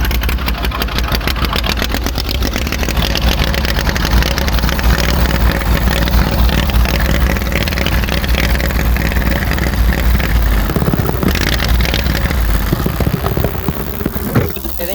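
A lifted lawn mower's small engine runs steadily after being cranked, a loud continuous idle-like drone holding even for most of the stretch before a slight dip near the end.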